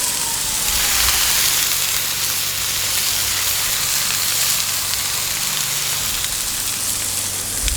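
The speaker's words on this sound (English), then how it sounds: "you want to get a nice sear on those" Meat sears in a hot pan with a loud, steady sizzle, a dense crackling hiss that runs unbroken from start to finish with no talking.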